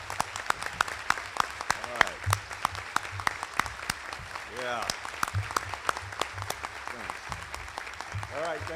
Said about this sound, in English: would you just stand and let us clap for you?